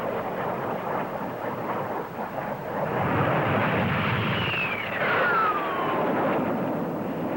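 A Navy NA-39 military jet roars past at the Farnborough air show, its loud broad rumble swelling with a descending whine as it passes overhead.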